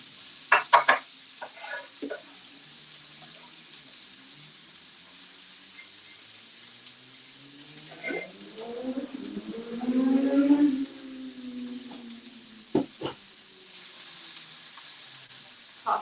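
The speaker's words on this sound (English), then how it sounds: "you hear that sizzle?" Food sizzles softly in a hot pan during a home cooking session making turkey meatballs and spaghetti squash, a faint steady hiss with a few louder stirring bursts and clatters in between.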